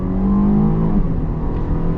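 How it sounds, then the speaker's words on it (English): A 2023 Jeep Grand Cherokee L Summit with its entry-level V6 accelerates hard in sport mode, the engine's loud rising drone building and then settling as the transmission shifts, heard up close from inside the cabin with no voices. "we'll actually pop it into the sport mode here so that we can get a full-on acceleration"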